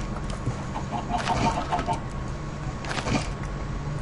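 Chickens cluck in a video game, a few soft clucks and bird calls heard in bursts over a steady rumbling background, near and moderately loud.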